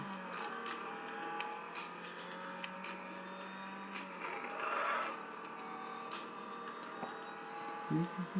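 A racing game car engine plays faintly from an iPad mini speaker, a thin steady drone with small rises in pitch and no one talking.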